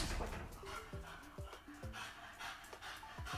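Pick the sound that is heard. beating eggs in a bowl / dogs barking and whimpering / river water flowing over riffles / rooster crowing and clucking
dogs barking and whimpering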